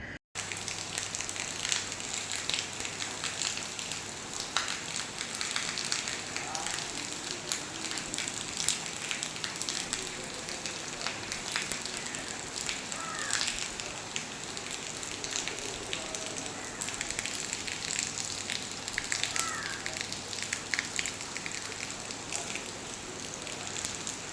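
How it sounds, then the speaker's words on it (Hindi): Heavy rain pouring outdoors at six in the morning, a dense, even hiss that stays constant and fairly loud from start to finish with no speech. "यहाँ पर अभी आप देख सकते हैं बहुत तेज़ से जो है बारिश हो रही है"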